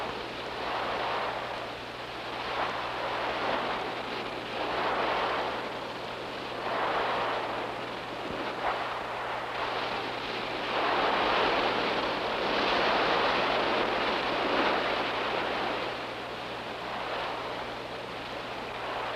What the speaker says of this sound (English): Let's find out what effect waves like these have on a beach.